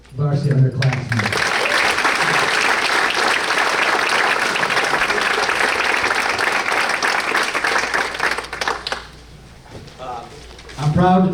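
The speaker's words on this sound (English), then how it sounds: "give a big, big round of applause for our varsity underclassmen." Sustained loud applause from a crowd at a boys' lacrosse banquet, clapping steadily for about nine seconds before fading, with brief talk at the start and end.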